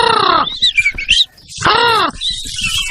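A bird in a children's puppet show sings loud, bright chirping phrases in two bursts separated by a short pause, close and clear, with voices of the characters mixed in around it.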